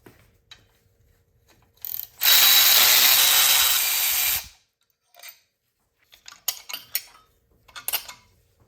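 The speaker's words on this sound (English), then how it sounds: "Now we'll get these fuel injectors out." Metal tools clink and ratchet on a BMW N20 engine during fuel injector removal, with one loud sustained burst of grinding noise and then scattered short clicks and taps.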